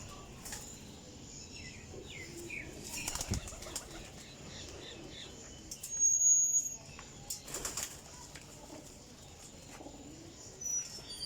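Golden Teddy pigeons, crossed with Kasuri pigeons, beat their wings in bursts, the loudest flurry coming midway, over steady faint cooing and scattered chirps.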